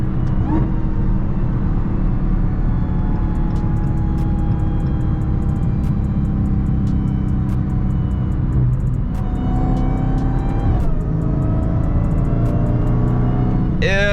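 A Dodge Hellcat widebody's engine drones steadily from inside the car while cruising, a loud, constant low rumble with a slight rise and dip in pitch partway through and no talking.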